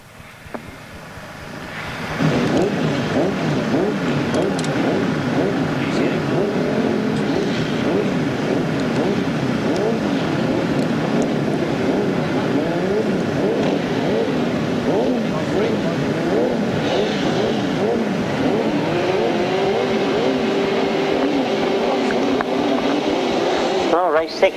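Grasstrack sidecar outfits racing past at a 1993 Collier Street meeting: a loud, sustained engine roar that rises suddenly and holds steady with revving, while a commentator talks over it.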